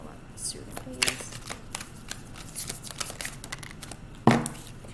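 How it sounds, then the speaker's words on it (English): Crisp riffling and flapping of a deck of tarot cards being shuffled, in several quick bursts, close up. "I'm gonna shuffle my cards."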